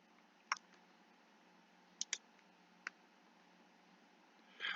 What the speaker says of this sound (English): And then clicking on the Attach button.